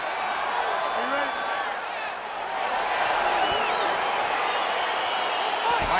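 A virtual arena crowd in EA Sports UFC 4 roars steadily at the start of a fight, a dense wash of cheering and murmuring voices holding at a fairly even level throughout, with occasional faint whoops rising out of the mass.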